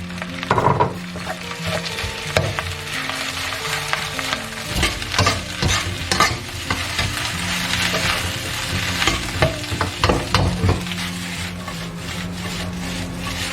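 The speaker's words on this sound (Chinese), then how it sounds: "下入米饭了，把米饭给它炒一炒" Rice being stir-fried in a wok with soaked dried scallops, shrimp, ginger and scallion, giving steady close sizzling with repeated scraping and stirring strokes of the spatula throughout.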